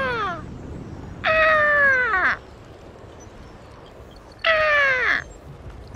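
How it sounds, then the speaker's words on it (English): Crows cawing in the game Call of Duty: Ghosts, three loud, harsh descending caws spaced apart, close and clear with no talk over them. "It was birds all over the place."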